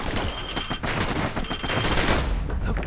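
Dual slinger pistols blaze in the video game Bastion, a dense, continuous stream of rapid overlapping shots with loud sharp cracks, steady from start to finish with no talking.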